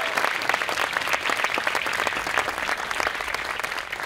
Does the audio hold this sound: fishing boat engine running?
no